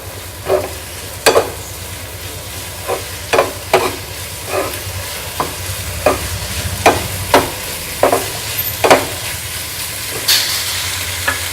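Capsicum stir-fries with spices in a pan over a full gas flame, a steady loud sizzle broken by a dozen sharp scraping stirs at an irregular rhythm, with no talking.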